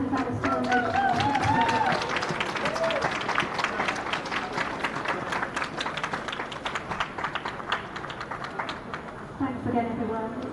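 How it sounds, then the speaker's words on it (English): Audience applause at a live outdoor boycott rally in Bristol, dense clapping that starts loud and gradually thins and fades, with a few voices and cheers mixed in near the beginning and end. "Give a round of applause because that was so emotional."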